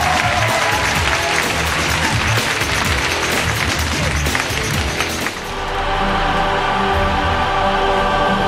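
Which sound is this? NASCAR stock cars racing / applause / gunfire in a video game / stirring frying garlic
applause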